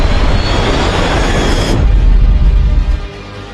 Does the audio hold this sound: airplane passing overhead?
yes